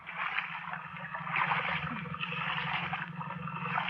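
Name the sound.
paddling a boat in water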